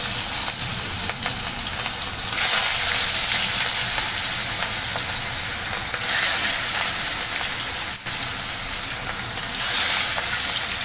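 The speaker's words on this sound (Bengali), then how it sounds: "তেল গরম হয়ে গেছে আর মাছগুলো দিয়ে দিই এক এক করে" Pieces of katla fish frying in hot oil give off a steady, loud, dense sizzle that runs without a break, swelling briefly a few times as the fish settles in the pan.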